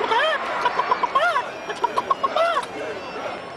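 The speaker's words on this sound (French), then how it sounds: "Ça, c'est la poule de Durovernum." A cartoon hen clucks in quick repeated bursts at close range in an animated film scene, with a rapid run of short clucks in the middle and some overlapping voices.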